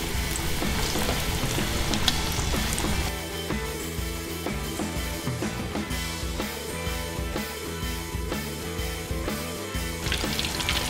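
Breaded finger steaks deep-frying in hot oil give a steady, dense sizzle that runs loud and unbroken throughout, with no talking.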